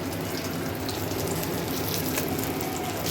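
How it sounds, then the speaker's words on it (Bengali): Fish frying in oil for a tomato fish curry in a home kitchen, a loud, steady, hissing sizzle heard close and unbroken throughout. "মাছ ভাজি করতেছি আর টমেটো দিয়ে মাছ রান্না করবো"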